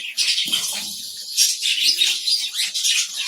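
A budgerigar colony in a breeding setup chirps and chatters continuously, a dense, bright mass of overlapping calls from many birds close by, with no talk.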